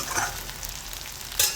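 Cumin seeds sizzling in hot oil for a Maharashtrian bajra dal bati, a bright steady crackle with a sharper burst near the end, close and alone.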